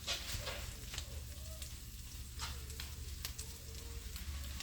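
Cabbage tacos frying in a pan give a faint, steady sizzle with scattered small pops and crackles, continuous and quiet throughout, with no talk over it.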